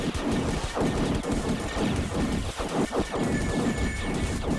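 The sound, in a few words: shooting in the video game Time Rifters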